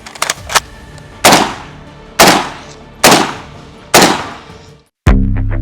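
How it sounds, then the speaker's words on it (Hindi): An AK-203 assault rifle is test fired in Moscow in single-burst mode from a kneeling position, giving five loud, sharp shots spaced roughly a second apart, each followed by a brief decaying echo. "लॉक करके हम फायरिंग की शुरुआत करते हैं।"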